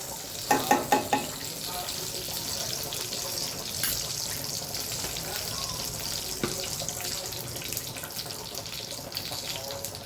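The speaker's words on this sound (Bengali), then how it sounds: "আমি কড়াইতে একটুখানি তেলের সাথে ঘি মিশিয়ে দিচ্ছি।" Ghee stirred into a little hot oil in a wok, a continuous close sizzle and bubbling hiss with a few quick clatters near the start; no talking.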